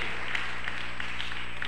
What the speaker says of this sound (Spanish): Un aplauso al Señor en esta mañana.